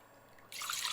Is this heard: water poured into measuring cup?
yes